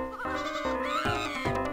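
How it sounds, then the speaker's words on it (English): A sheep in the Freddy Pharkas frontier pharmacy game bleats loudly after being shot, its wavering cries repeating several times over steady game music. "We shot the sheep!"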